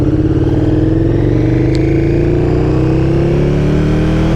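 A KTM 1290 Super Duke R motorcycle pulls hard, its engine note climbing steadily with quick-shifter gear changes, loud and close the whole way with no voices.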